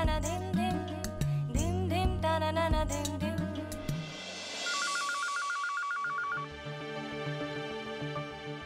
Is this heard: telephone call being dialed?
yes